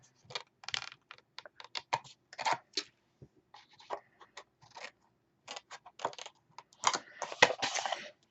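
Scissors clip the corners of paper, a series of sharp, close snips and clicks in irregular bursts separated by short pauses.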